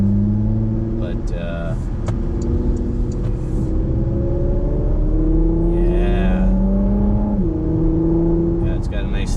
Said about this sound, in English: it's got a nice throaty exhaust. Not too much, just enough you can hear it